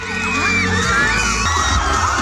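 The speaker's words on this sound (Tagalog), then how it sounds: "Kanya-kanyang cheer ang crowd" A large crowd cheers and shouts continuously at the Miss Bangued 2024 beauty pageant on the Bangued Town Plaza in Abra. The roar is loud and dense, with whoops and yells layered throughout.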